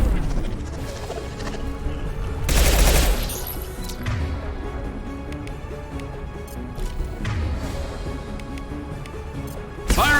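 Gunfire in Mass Effect 2 (Legendary Edition) from a high-impact weapon shot: a loud, dense burst of blasts around the third second, followed by quieter shots and impact cracks over a steady game-combat backdrop.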